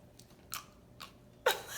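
Crunchy food, a Halloween-themed dish topped with lime caviar, chewed in a few crisp bites that come close and fairly quiet, with the last bite the loudest.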